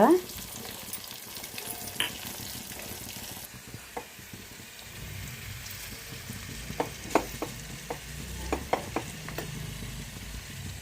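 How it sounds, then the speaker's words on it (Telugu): Tempering spices of pepper, dried and green chillies with asafoetida fry in hot oil, a steady crackling sizzle with scattered sharp pops and occasional stirring clinks, heard alone. "వేగాలండి ఇవన్నీ బాగా వేగాలి పోపులు"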